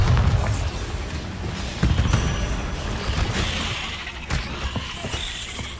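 Bombarda spell explosion in Hogwarts Legacy, a muffled booming blast followed by rumbling debris and creaking, loud and close with no talk over it.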